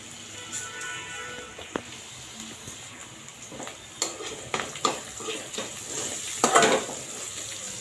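Onion with cumin seeds and turmeric frying in a little oil in a hot kadai, a steady soft sizzle broken by scraping clicks and a louder burst of spatter near the end, no talking.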